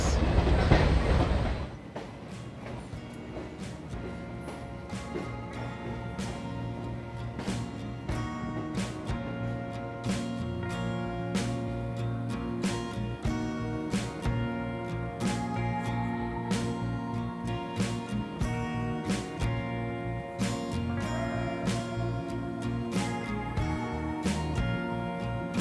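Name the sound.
Balurghat–Kolkata Tebhaga Express train arriving at Kolkata station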